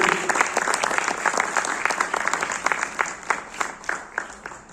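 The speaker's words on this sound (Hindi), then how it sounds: "एक बार जोरदार तालियां आप सबकी इस बेहतरीन और शानदार प्रस्तुति के लिए" At a national theatre festival in Raigarh, Chhattisgarh, an audience claps loudly for a stage play performance, the dense applause thinning toward the end into more distinct individual claps.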